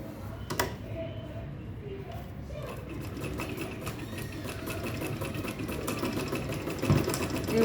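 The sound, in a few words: sewing machine stitching a traveling bag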